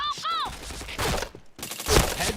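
Gunfire in a shooting video game comes in quick rapid-fire bursts separated by short pauses, loud and close, mixed with a few brief game sound effects.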